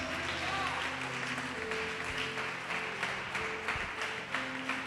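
Church congregation clapping in praise during a worship service, a moderate, fairly distant wash of applause with a voice speaking faintly over it.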